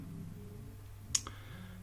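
A single sharp computer mouse click, followed by a softer second click, sits over a quiet background hum.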